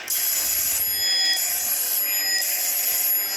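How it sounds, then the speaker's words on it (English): A ship's salvo alarm bell, a continuous high-pitched electric bell, rings steadily throughout below decks, with a slight pulsing pattern and no voices. "So we sound the salvo alarm."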